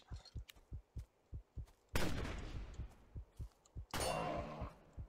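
Video game gunfire comes as two sharp, loud bursts with noisy decaying tails, set against a regular thumping heartbeat-like pulse repeating steadily underneath, with no talking.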